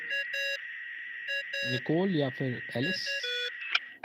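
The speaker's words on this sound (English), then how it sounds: "I really hate that ringing tone." A phone ringtone in Genshin Impact, repeated short electronic beeps in an even pattern, with a voice talking over the middle of it.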